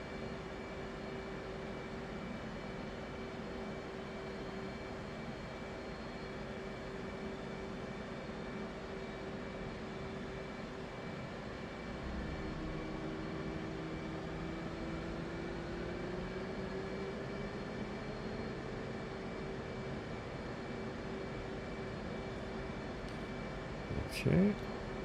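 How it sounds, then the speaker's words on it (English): An F/A-18C jet engine idles in the DCS flight simulator, a sustained turbine whine over a low rumble with tones that slowly shift in pitch midway, steady throughout, with a brief click near the end. "Right engine into idle."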